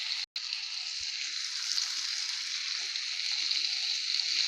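Beans hitting a hot frying pan, a steady bright sizzle and hiss that holds throughout, close and moderately loud with a small clatter near the start.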